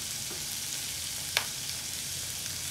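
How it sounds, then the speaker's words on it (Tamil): Thinly sliced onions and curry leaves frying in a pan for home-made sambar, a steady soft sizzle throughout with one brief clink of a utensil, close and quiet without any talk. "கருவேப்பிலை, நல்லா கொஞ்சம் ப்ரௌன் ஆகும் வரையும் வேகட்டும்."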